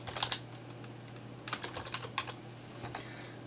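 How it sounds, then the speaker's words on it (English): Someone types a folder name on a computer keyboard: a few quick bursts of close, crisp key clicks separated by short pauses, with no talk. "I type in the name that I want to give it"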